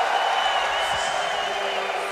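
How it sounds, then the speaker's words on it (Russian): A crowd at The International 2014 Dota 2 event sends up a steady, loud roar of cheering and applause that fills the whole stretch without a break. "Кейси заводит толпу"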